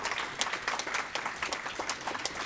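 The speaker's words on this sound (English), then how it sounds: "I think you deserve a round of applause." Steady applause from a university event audience at Cal Poly, a dense patter of many hands clapping at moderate volume.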